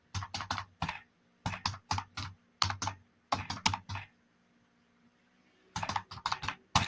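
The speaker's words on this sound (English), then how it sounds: "Excuse me while I type." Bursts of fast, close typing on a computer keyboard come in several clusters of clicking keystrokes separated by quiet pauses.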